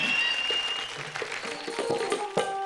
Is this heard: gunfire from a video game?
no